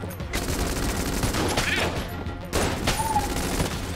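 Rapid gunfire from a gun in the game Enter the Gungeon rattles in dense continuous bursts, loud and close, with a brief pause midway before the volley resumes, alongside game sound effects.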